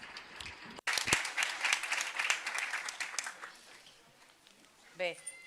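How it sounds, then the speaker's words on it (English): Applause from an audience at a city and food thought-biennial event, a dense clatter of clapping after a brief break, with speech-like sounds rising over it near the end. "a very big applause for all of them"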